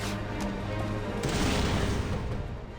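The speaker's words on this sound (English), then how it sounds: "Melia took that explosion to the face like a champ" A loud, rumbling explosion in Xenoblade Chronicles bursts midway and roars on with crackling debris, following a lower rumble of in-game ambience; no one speaks.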